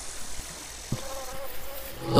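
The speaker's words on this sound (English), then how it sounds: "There are a few insects buzzing lazily through the air, as well as the rustle of leaves and flowing of water." Insects buzz lazily through the air of a silent room, over a steady hiss of rustling leaves and flowing water, with the wash swelling slightly at the end.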